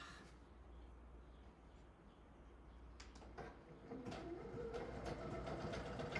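Domestic sewing machine stitching down a seam with the presser foot centered, a steady low mechanical hum and rattle running throughout, growing slightly louder and busier after the first few seconds, with a few light clicks.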